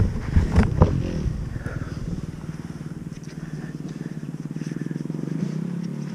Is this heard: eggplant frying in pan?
no